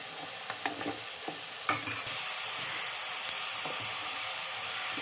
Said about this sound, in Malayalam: ഇനി ഇതൊന്ന് ഇളക്കി കൊടുക്കുവാണേ ഒന്ന് മൂക്കട്ടെ നല്ലപോലെ